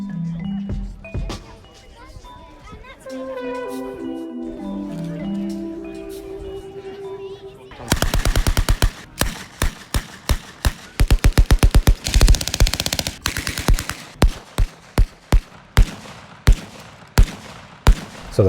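Gunfire at a soldiers' war reenactment with people in uniform bursts out after a stretch of background music, a long series of loud sharp shots in rapid irregular volleys.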